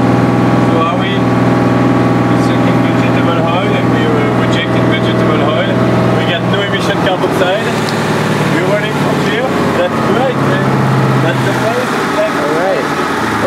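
A diesel engine converted to run on waste vegetable oil idles with a loud, steady harmonic drone, its pitch shifting as the RPMs change partway through, while people talk nearby.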